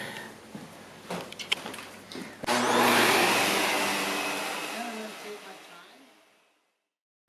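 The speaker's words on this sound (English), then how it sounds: "I'm going to vacuum the other side" Some scraping and brushing, then a vacuum cleaner roars on close by over an area rug, whines steadily, and winds down to silence.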